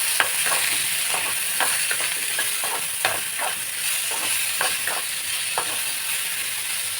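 Onions sautéing in a pan with salt, a continuous close sizzle broken by repeated scraping stirs from a spatula at an uneven rhythm, with no voices.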